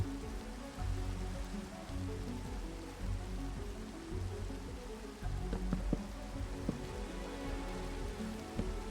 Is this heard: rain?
yes